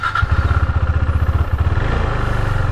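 A KTM Duke 390 single-cylinder motorcycle engine idles close by, with a steady, rapid thumping pulse that quickens slightly toward the end. No one speaks.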